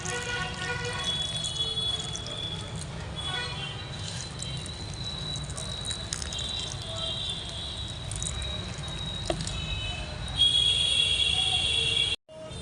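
Water trickling bit by bit onto already damp potting soil, a soft steady wash of pouring close by, with a voice talking over it now and then.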